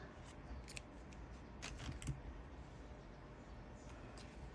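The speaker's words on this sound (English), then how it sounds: "Get a pair of scissors." Scissors snipping crochet yarn while fastening off a scrunchie: a few quick, crisp cuts and small handling clicks, quiet and close, with no talking.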